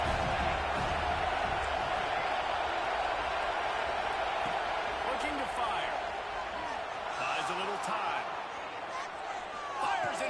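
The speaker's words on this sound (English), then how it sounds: "This crowd really affecting the football game." Loud, steady roar of a stadium crowd at a South Carolina vs Tennessee college football game, a dense wash of noise filling the whole stretch with faint scattered shouts and broadcast talk beneath it.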